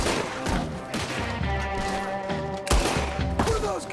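Rapid gunfire in a Red Dead Redemption 2 shootout, with bursts of shots cracking over a steady game music bed for several seconds, loud and close.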